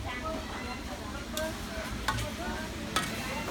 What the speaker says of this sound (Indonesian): Ini sebenarnya goreng sambal.